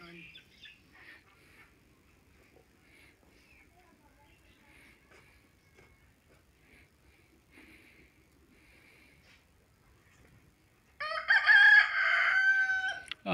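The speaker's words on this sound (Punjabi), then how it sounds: "ਆ ਕੁੱਕੜ ਬੋਲਦਾ ਤੁਹਾਡਾ ਵੇਚਣਾ ਜੀ?" A rooster at a rural livestock sale crows once loudly and close near the end, after a long quiet stretch with faint background murmurs.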